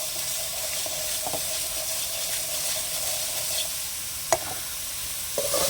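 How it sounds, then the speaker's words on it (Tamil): Coriander seeds, cumin and dried red chillies roast in a pan for brinjal gravy, giving a continuous soft sizzle and hiss with a few sharp scraping stirs near the end. "சீரகம், வரமிளகாய் ஒரு 3 நிமிஷம் இப்படியே பெரட்டி கலர்னோம்னாவே நம்மளுக்கு கொத்தமல்லி வந்து வறுபட்டுரும்."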